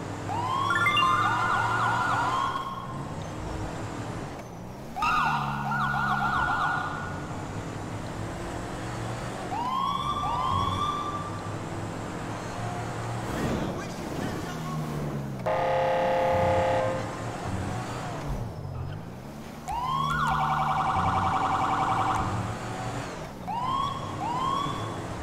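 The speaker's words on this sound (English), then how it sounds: "I only got my emergency lights and siren on" A police car siren in GTA 5 wails and yelps in repeated cycles, switching between tones, loud and close over engine and traffic noise.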